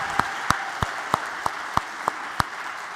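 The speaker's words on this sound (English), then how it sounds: "just one round of applause for everyone who's helped out this semester" A classroom audience at CS50's final lecture applauds its semester helpers, with crisp claps falling in an even rhythm about three times a second over a wash of crowd clapping.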